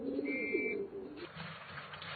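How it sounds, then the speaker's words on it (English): Racing pigeons coo and murmur close by as they land at their loft in Taiwan, with a brief high whistle near the start and a soft rustling background. "whistles for the pigeons to land"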